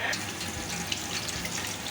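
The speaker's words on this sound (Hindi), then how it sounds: "ये मैं इसको पानी में धो रही हूँ" Goat and cow trotters are washed under running water in a home kitchen, giving a continuous splashing rush from the tap that is close and fairly steady.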